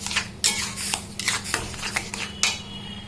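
Semolina cooked with a little water in a pan, stirred with repeated scraping strokes of a utensil against the metal, about a dozen sharp close scrapes in an uneven rhythm over a low steady hum.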